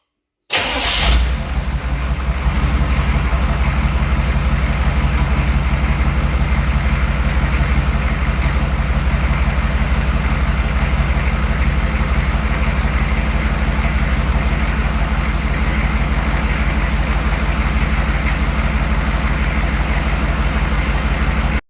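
A 1992 Chevy truck with a 6.5 Detroit Diesel engine cranks and fires up, then settles into a loud, steady diesel idle with a constant low rumble that continues to the end.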